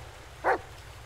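A dog in the Blair Witch video game gives a single short bark, mid-loud and close, rising briefly over a low steady hum with no other sound around it.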